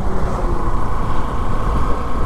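A 125cc motorbike engine hums steadily while riding, with continuous low rumble and road noise and no talking.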